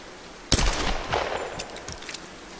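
A sharp gunshot bursts out in the video game Tomb Raider, followed by a few scattered shots and echoing clatter, all fairly loud and close.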